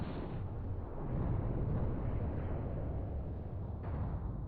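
An anti-tank gun fires in the WWII strategy game Gates of Hell on the Mius Front, heard as a deep, rumbling boom with a lingering battlefield roar and a second muffled report near the end.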